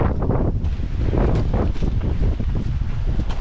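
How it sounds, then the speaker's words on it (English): Strong coastal wind blasting across the microphone at a Central Coast beach campground, a loud continuous roaring buffet with gusty surges and no pauses. "The wind is blowing so hard now"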